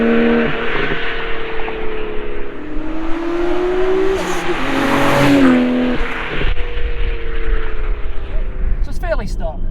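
A Nissan R32 GTR with bolt-ons, an HKS catback exhaust with one resonator, no catalytic converter and no muffler, drones and revs up and down loudly and nearby, with a voice talking over it.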